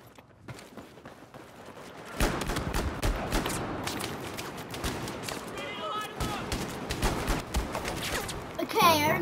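Pistol shots in the video game Battlefield 4 on the Operation Locker map, a pistols-only match: sharp, rapid game gunfire and footsteps in a busy, continuous mix, with a louder burst near the end.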